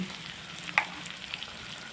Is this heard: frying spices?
yes